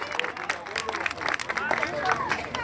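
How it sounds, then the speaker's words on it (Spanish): Crowd applause and clapping at an outdoor festival on Cerro de la Estrella, steady and fairly close, with cheering voices and crowd babble mixed in throughout. "Un fuerte aplauso, por favor."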